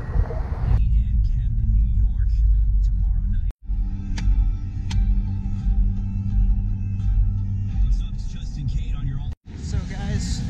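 A car drives steadily along a road, heard from inside as a constant low rumble and road hum, with a couple of brief dropouts and a few light rattles over the engine drone.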